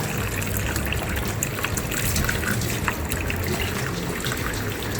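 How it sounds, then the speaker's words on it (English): Cold tap water runs over freshly cooked, strained spaghetti in a kitchen, a steady close-up splashing trickle that carries on evenly without a break. "I'm just gonna give it a quick cold water bath."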